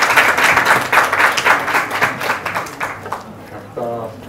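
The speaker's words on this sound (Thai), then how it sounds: "ผมขอให้ผู้เข้าร่วมสัมมนาช่วยปรบมือ" Seminar participants at a panel forum on rice pledging clap in thanks to the speakers, a close, rhythmic round of applause that thins out before a voice begins speaking at the end.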